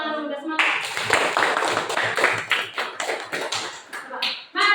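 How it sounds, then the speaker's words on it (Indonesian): A class of fifth-grade students claps their hands together in a dense burst of fast, overlapping claps lasting several seconds. A teacher's voice is heard just before and just after the clapping. "Coba tepuk tangan dulu, udah semangat."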